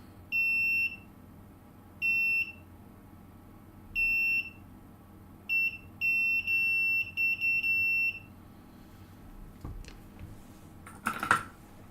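A multimeter in continuity mode gives a run of steady, high-pitched electronic beeps during a repair: short bursts, then a longer broken stretch, then a brief clatter of handling near the end.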